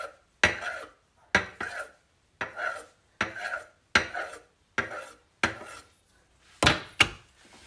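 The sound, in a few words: knife slicing butter into slices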